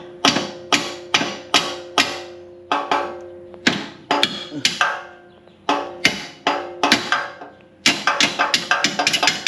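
Repeated sharp metallic hammer strikes driving out a car's rear lower control arm bushing, in quick bursts, loud and close, with brief pauses between groups of blows.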